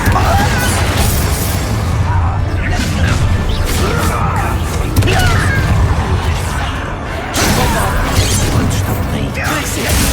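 Bombarda blasting spell exploding in Hogwarts Legacy combat against goblins, a booming burst amid continuous loud battle noise, crashes and clattering effects with dense layered game sound throughout.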